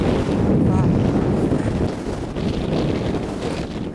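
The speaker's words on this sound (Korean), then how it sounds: "강한 바람에 날리는 모래 사이를 걸으면 마치 모래 샤워를 하는 것 같지만" Strong gusting wind blowing sand across open Western Australian dunes, buffeting the microphone with a loud, rough, continuous roar.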